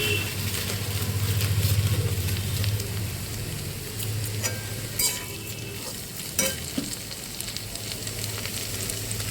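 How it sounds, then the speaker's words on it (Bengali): Chowmein tossed and stirred in a hot wok with salt and sugar, a steady sizzling hiss with scraping, louder in the first few seconds and then settling, with a few sharp clacks of the utensil against the pan. "এভাবে চাউমিনটা দিয়ে ভালো করে নাড়তে হবে যাতে কড়াতে না লেগে যায়।"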